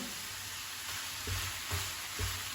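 Steady sizzling of carrots frying in a pan, with a few soft low thuds as they are stirred at regular intervals.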